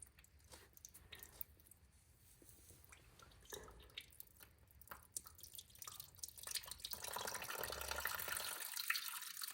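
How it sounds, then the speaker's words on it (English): Water drains from a forklift transmission drain plug on a Massey Ferguson MF204, a faint trickle with scattered drips that grows into a steadier pour toward the end. "Look at all that water."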